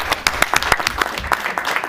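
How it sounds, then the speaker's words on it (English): An audience at a parenting panel discussion breaks into short, lively applause, dense overlapping claps close by with a few prominent sharp hits, fading slightly toward the end. "So let's give the audience a huge round of applause."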